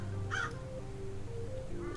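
Aggressive crows in a video game caw twice, once sharply early and once more faintly near the end, over a steady low droning game soundtrack.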